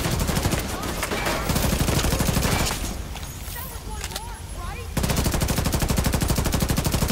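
Sustained bursts of automatic machine gun fire from an enemy machine gunner in The Division 2, set in New York's Financial District, loud and rapid, pausing briefly midway before resuming at full pace.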